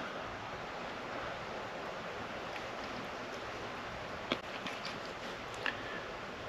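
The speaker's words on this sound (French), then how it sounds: "Quand il y a un petit vent comme aujourd'hui" Steady wind rushes outdoors in the woods with a soft broadband roar, with a couple of brief faint knocks near the end.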